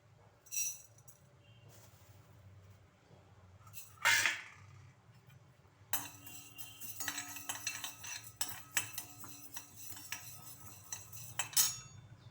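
Coriander seeds roast in a metal kadai, with a scrape at first and then a run of metallic clinks and rattles as a spoon stirs. The sounds are close but fairly quiet.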